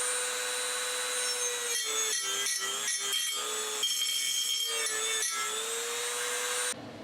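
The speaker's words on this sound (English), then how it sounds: "We'll see if I can attack it with some sandpaper real quick." Sandpaper rubbing rust off a metal mounting bracket, a steady close scraping with a run of quick repeated back-and-forth strokes in the middle, no talking.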